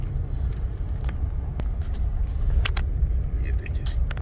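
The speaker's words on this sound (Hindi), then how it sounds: "अब यहाँ से हमने गाड़ी वापस घुमानी है।" A car drives and turns around on a narrow street in the Anakish district of Jeddah. Its engine rumbles steadily under low road noise, with scattered light clicks and faint background voices.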